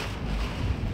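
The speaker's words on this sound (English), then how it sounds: "Major wind." Strong storm wind roars during a tornado chase inside a surging bow echo near New Roads, Louisiana, buffeting the microphone with a loud, continuous, gusting rumble.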